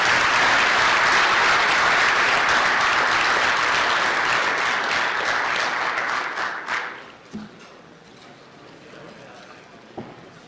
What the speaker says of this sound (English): All right, let's give Ryan a huge round of applause.